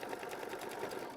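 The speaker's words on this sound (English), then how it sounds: "we are going to let that get tacked down with machine stitch step 14." A sewing machine runs in a quick, even rhythm, tacking fabric down for a quilt block; the stitching is fairly quiet and no one talks.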